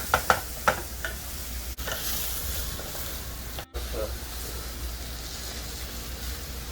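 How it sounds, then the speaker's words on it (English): Onions, ginger, garlic and chilies sauté in a hot pan for lamb biryani, giving a steady close sizzle with a few sharp stirring knocks at the start. "I'm going to add my ginger, garlic, chilies. Let them saute also before I add my meat."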